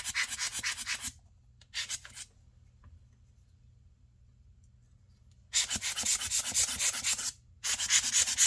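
Watch display film on a modified Casio G-Shock King has its corners beveled by sanding, giving close, crisp rhythmic rubbing strokes in two bursts separated by a quiet pause.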